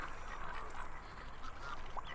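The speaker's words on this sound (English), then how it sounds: "Baby duckies, here's some bread." Ducklings being fed bread make faint, soft quacks and peeps over a steady outdoor background hiss, with a brief clearer call near the end.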